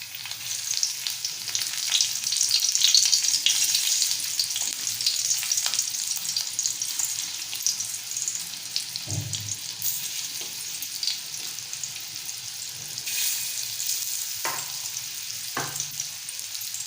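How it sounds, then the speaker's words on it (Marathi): Pieces of mori (baby shark) fish frying in hot oil with garlic, a steady bright sizzle that holds throughout at close range, broken by an occasional soft clack, with no talking. "आणि छान 2-3 मिनिटं एका साईडनं फ्राय करून घेऊया"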